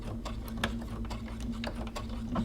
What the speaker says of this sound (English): I'm gonna back stitch here at the end.